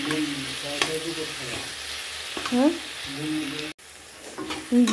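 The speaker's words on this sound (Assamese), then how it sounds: "দিলোঁ মাছৰ মাথাটো ভাঙি, আৰু অকণমান ভাজিব দিম" Fish head frying in a pan, a steady close sizzle with stirring and scraping all the way through and a short break near the end. Nobody speaks.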